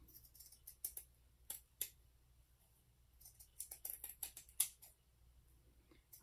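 Scissors cutting out a piece of fabric for a fabric sunflower, heard as quiet, close snips in short irregular bursts with pauses between them, no voices.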